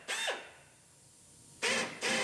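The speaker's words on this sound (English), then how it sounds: "Now we're going to drill a hole." A power drill bores a hole into the rocker panel of a 2017 GMC Terrain Denali, with a short whirring burst at first, a quiet gap, then two more loud close whines in quick succession.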